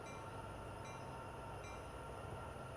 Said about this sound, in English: Train will move again,